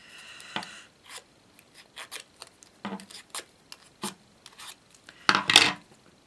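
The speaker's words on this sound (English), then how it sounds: "gently shape these leaves a little bit using our scissors" Scissors snipping paper in short, irregular cuts close up, with a louder rustling crinkle near the end.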